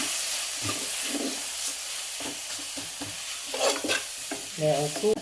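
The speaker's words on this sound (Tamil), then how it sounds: "இதில் இப்போ சிக்கன் மசாலா சேர்த்துருக்கேன் 1/2 டீஸ்பூன். கிண்டி விட்டுறேன்." Soya gravy with half a teaspoon of chicken masala being stirred in a hot pan, a steady sizzle and hiss with scraping spoon strokes close by, no voices.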